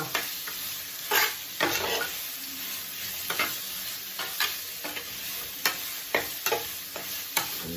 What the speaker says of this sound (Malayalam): വെളുത്തുള്ളി കൂടെ ഇതിലിട്ട് കൊടുത്തിട്ടുണ്ട് ഇതുകൂടെ നല്ലോണം വഴറ്റിയെടുത്തിട്ട് കേട്ടോ